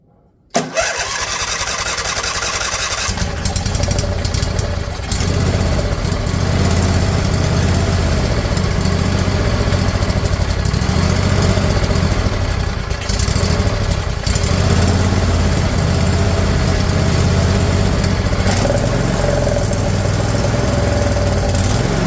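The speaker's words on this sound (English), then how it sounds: "Now it's starting to sound like a briggs stratton." Intek V-twin engine on a riding mower cranks over briefly, catches and settles into a loud, steady rumbling idle that runs continuously at close range without any talk.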